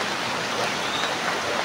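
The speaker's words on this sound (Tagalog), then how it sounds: "Yan, sapa na dyan banda mga idol." A small stream flows steadily close by, giving a continuous broadband rush of running water with no breaks and no voices.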